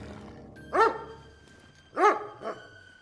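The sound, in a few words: dog barking in Kingdom Come: Deliverance 2 video game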